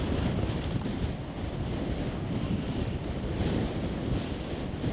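Strong wind gusts roar in a steady, full rush with rumbling buffeting on the microphone, loud and continuous, with no voices.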